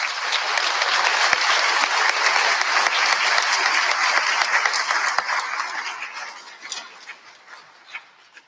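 Steady, dense audience applause for deployed veterans at a university graduation ceremony, sustained at full strength for several seconds before thinning into scattered claps and fading out.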